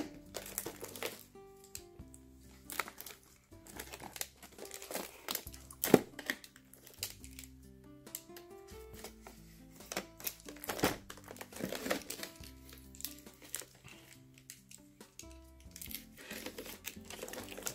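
Crinkling and tearing as a well-taped box holding a Hyper Tough 20V Max 70-piece project kit is pulled open, a soft, continuous run of crackles, rips and plastic rustles close by with no talking.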